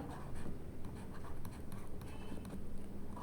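Chalk or marker writing on a classroom board during a maths lesson on rational numbers, a continuous run of scratchy strokes with short taps, fairly close and steady, with no talking over it.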